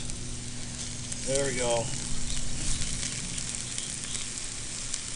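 Onions caramelizing on a Camp Chef griddle, giving a steady, fairly loud sizzle that runs throughout, with someone speaking briefly over it.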